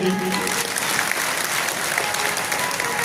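Dense, steady applause from an audience at a saints' gathering at Narsingh Dham, Ghaumanasa, Jammu, filling the whole stretch loud and close with no break.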